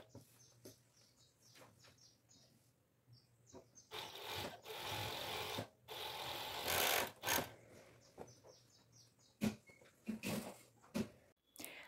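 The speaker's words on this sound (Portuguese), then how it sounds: "Agora que a gente foi para a máquina overlock, vamos fazer o acabamento das cavas." Overlock sewing machine finishing the armholes of a long gypsy-style dress, running in quiet bursts of a second or two between clicks and fabric handling, with some faint chirping in the background.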